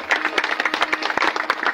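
Audience applause at a Maharashtrian kirtan during a Mahashivratri festival, a short burst of dense, steady clapping from a gathered crowd.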